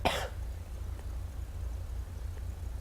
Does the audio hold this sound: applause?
no